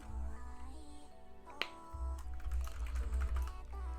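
Steady keyboard typing while code is written, with quick irregular key clicks close by and one sharper tap partway through, heard alone with no talk.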